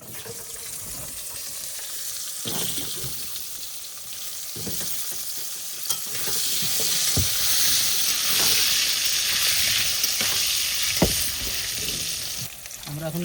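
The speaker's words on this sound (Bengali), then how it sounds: "এবার কিন্তু আলু ভাজার জন্য তেল দিয়ে দিচ্ছি" Potatoes fry in oil at an outdoor riverside cooking spot with a steady crackling sizzle. Intermittent clinks and stirring scrapes run through it, and water sounds are faintly present.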